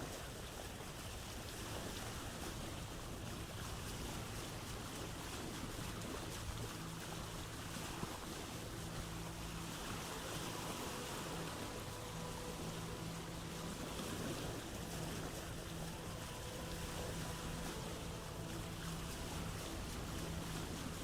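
Wooden boat gliding across water at night in the survival game Vintage Story, a steady wash of wind and lapping waves with faint low creaking tones, continuous and unbroken with no voices.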